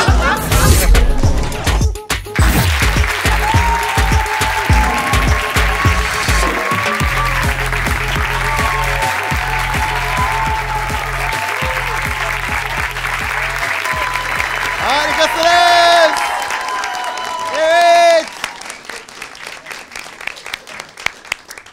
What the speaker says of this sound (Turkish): Boşuna o kadar alkışladınız